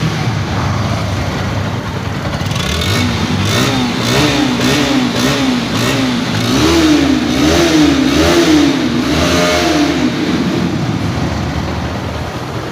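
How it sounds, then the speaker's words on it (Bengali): Bajaj Pulsar NS 160 motorcycle engine, red, revved up close in repeated rising throttle blips over a rough, loud idle that carries through the whole stretch, with no voices. "অস্বাভাবিক সুন্দর সাউন্ড দেখতে পাচ্ছেন। একবারে কিন্তু স্পোর্টি একটা সাউন্ড, স্পোর্টস বাইকের যেমন একটা সাউন্ড।"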